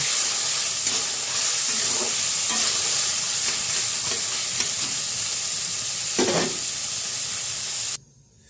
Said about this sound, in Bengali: সিম বিচিগুলো হালকা করে ভেজে নিয়েছি